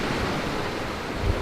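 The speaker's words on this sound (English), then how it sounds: "You can hear like the echo of the waves crashing here, and it's like delayed from there." Ocean waves crash against a reflecting structure, producing a steady, loud wash of surf with wind rumble and a low thud near the end, with no voices.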